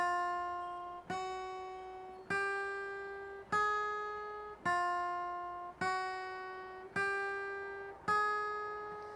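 Eight evenly spaced guitar notes, each plucked cleanly and ringing into the next in a smooth, connected line, close and fairly soft.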